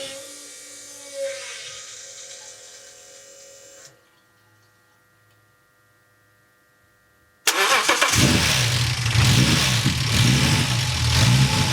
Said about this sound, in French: Bon, il démarre bien, mais j'ai toujours ce problème de ralenti instable.